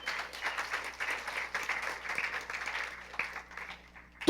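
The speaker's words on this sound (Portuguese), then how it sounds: "dá uma salva de palmas a esse Deus amoroso" A church congregation applauds God at a sermon, a dense, steady wash of many hands clapping at moderate loudness that carries on throughout, ending in a sharp louder burst.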